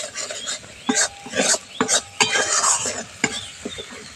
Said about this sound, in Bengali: আমি হালকা আঁচে মশলাটা কষিয়ে নিচ্ছি।